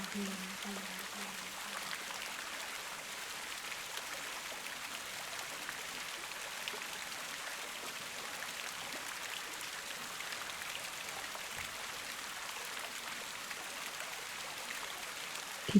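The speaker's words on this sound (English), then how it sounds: "Keep listening to the water." Water flows steadily, a soft continuous trickling and splashing like a small stream or light rain, gentle and even throughout with no pauses.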